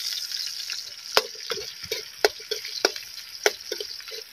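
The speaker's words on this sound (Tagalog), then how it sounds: "Gigisa muna natin yung isda natin." Silver carp fish sautéing in a hot pan, a steady close sizzle and crackle broken by sharp pops and spatters every half second or so, with no voices.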